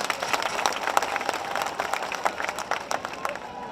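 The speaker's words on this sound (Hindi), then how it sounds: "अगर मेरे समर्थन में हो तो जोरदार तालियां बजाओ" Applause at an outdoor political rally in Bawana, a fairly faint, uneven patter of claps from a crowd with sharper individual claps popping out irregularly before it thins away.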